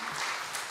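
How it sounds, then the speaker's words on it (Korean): Brief, fairly faint applause from a church congregation during a Sunday worship service, with a steady wash of clapping and no talk. "우리 하나님께 영광의 박수 올려드리겠습니다"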